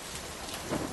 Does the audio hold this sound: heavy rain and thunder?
yes